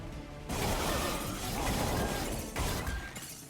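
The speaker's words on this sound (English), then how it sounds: "The sound of crystals smashing." Crystals smash in the Monster Train video game, a loud, dense shattering burst that sprays glassy fragments for several seconds and then flares again near the end.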